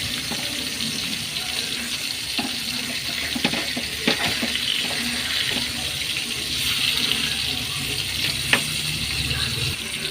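Fish fries in a pan with a continuous loud sizzle, while scattered clinks and scrapes mark the pieces being turned over one by one.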